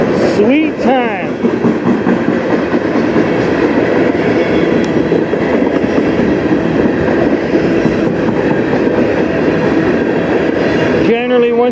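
A CN freight train rolls past on the Strathroy Subdivision with steady rumbling and clattering wheels that stay loud and close throughout, and a brief squeal breaks through near the start.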